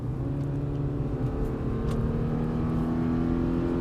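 Subaru Forester 2026 with a 180 hp boxer engine and CVT, a steady close engine drone with a sustained whining tone, constant level, no talk.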